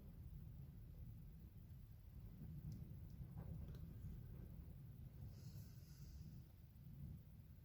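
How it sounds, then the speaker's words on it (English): A distant storm outside with wind picking up, a low steady rumble and rushing air filling the background, faint and continuous with no talking. "I think there's a storm coming in, or the tail end of a storm that we're getting."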